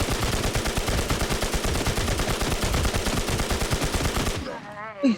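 Sustained rapid machine gun fire in the video game Infestation, a PPM-style weapon emptying close to a hundred rounds in a loud unbroken burst that cuts off abruptly near the end.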